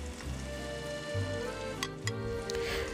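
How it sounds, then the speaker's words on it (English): Garlic, spring onion whites and cashews stir-fry in a pan: a soft, low sizzle under a hum, with a few quick scraping stirs toward the end and no speech. "Now we will stir everything till we see a light golden brown tinge on the cashews and the garlic."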